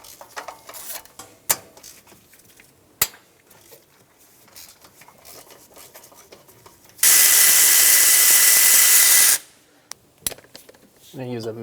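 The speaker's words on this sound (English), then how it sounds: "I'm going to go around loosening all of these bolts" A power tool, likely an impact wrench, loosens starter bolts and nuts on a 2000-2006 Toyota Tundra in one loud sustained burst of a couple of seconds, with sharp metallic clicks and clanks before and after.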